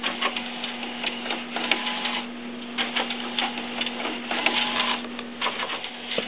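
An HP Designjet wide-format printer (T120/T520 class) runs steadily, its mechanism giving a continuous whir with a constant mid-pitched hum and repeated soft clicks and ticks of the print carriage; no one speaks.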